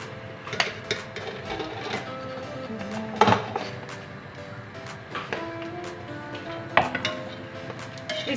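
Rice spooned into a pot in layers for chicken biryani: soft scoops and scrapes with a few sharp metallic clinks of spoon against pot, close and intermittent over a quiet background.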